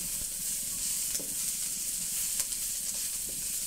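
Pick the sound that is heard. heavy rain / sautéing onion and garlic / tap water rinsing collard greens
sautéing onion and garlic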